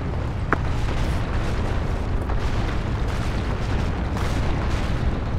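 A grenade launcher blast in the shooter game Crysis, a dense, sustained roaring rumble with heavy low-end boom that stays loud throughout, with a sharp crack early on.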